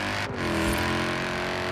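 A Mercedes SLS police car engine in Forza Horizon 4 revs loudly and steadily, a dense continuous roar with no talk over it.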